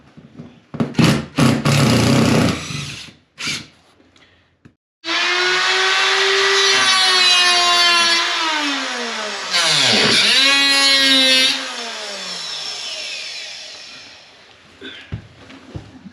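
A power tool drives screws out of a trailer, its motor whining steadily for several seconds, dipping and rising in pitch as it bites, with short rattling handling noises before and after.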